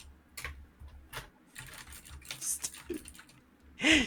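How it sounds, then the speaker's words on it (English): Rapid typing on a computer keyboard during a Silent Hill 1 PlayStation game session, a run of irregular clicky keystrokes with short pauses, close and moderately loud, ending in a brief louder burst. "I'll stop typing."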